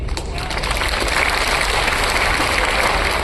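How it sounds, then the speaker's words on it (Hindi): An audience at a motivational talk claps steadily, a dense and even wash of applause that holds through the whole stretch with no talking over it. "जो ताली बजा रहे हैं"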